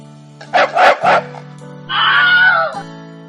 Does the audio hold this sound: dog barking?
yes